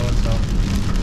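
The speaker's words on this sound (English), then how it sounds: "and shocker, it is raining" Rain pelts a moving car, a dense continuous hiss of drops on the body with low road rumble beneath, brief and steady.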